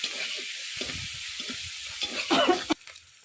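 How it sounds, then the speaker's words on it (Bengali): Spice paste with ground ginger frying in a pan, a soft crackling sizzle with intermittent stirring scrapes, louder briefly near the end before quieting, close up. "অল্প আদা বাটা দিয়ে মশলাটাকে ভালো করে কষিয়ে নেবে"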